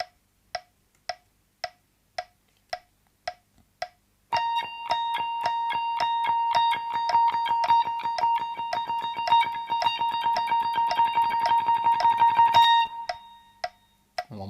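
Eight steady metronome clicks lead into a continuous guitar rhythm exercise that builds from eighth notes through triplets and sixteenths to sixteenth-note triplets, with the ticking continuing underneath.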